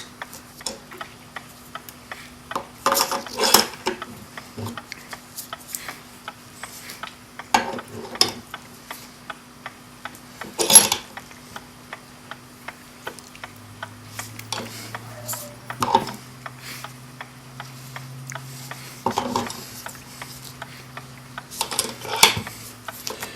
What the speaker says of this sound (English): Turn it a quarter of a turn in the other direction and tighten the vise.